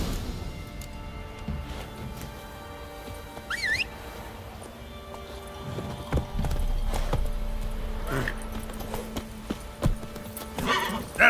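Roach the horse from The Witcher 3 game, hooves clip-clopping in a steady rhythm with a short whinny midway, fairly close, with no talking.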